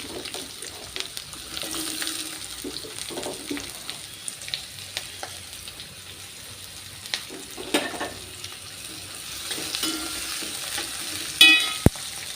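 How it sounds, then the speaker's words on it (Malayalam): Sliced onions fry in hot coconut oil with a steady, close sizzle under occasional stirring and light scraping sounds, ending with a sharp clink near the end. "വെളിച്ചെണ്ണ ഒന്ന് തിളച്ച് വരുമ്പോൾ അതിലേക്ക് അരിഞ്ഞ് വെച്ചേക്കണ സബോള ചേർത്ത് കൊടുക്കാം."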